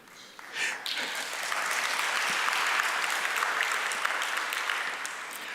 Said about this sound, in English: I'm sure after this you are going to give me a round of applause.